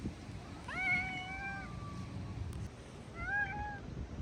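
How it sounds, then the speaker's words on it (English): A stray cat meows twice, each a drawn-out, rising cry, with a pause between them. The cat is quiet and fairly close, over a soft background hiss. "This is a stray cat that's been hanging around our home"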